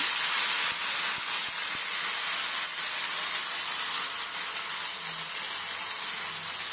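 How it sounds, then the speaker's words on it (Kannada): Washed prawns hit a hot pan with curry leaves and sizzle in a loud, dense, continuous hiss that holds steady throughout, close up, with faint clicks underneath. "ಈಗ ತೊಳೆದು ಚೆನ್ನಾಗಿ ಇಟ್ಕೊಂಡಿರೋವಂಥ ಸೀಗಡಿನ ಹಾಕ್ತಾ ಇದ್ದೀನಿ"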